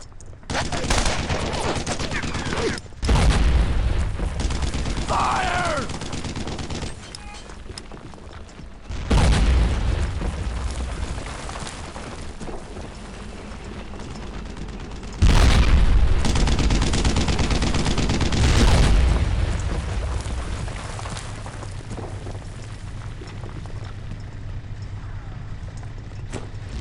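Tank cannon blasts destroying a Panzer IV in Brothers in Arms: Earned in Blood, heavy booming shots at intervals amid gunfire and battle noise, with voices talking between.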